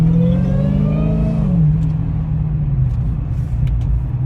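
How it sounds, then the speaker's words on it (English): A supercharged 2020 Dodge Charger Hellcat Widebody revs loudly up close, its pitch climbing and then dropping back to a deep steady idle rumble with a faint supercharger whine, no talking. "That supercharger so loud."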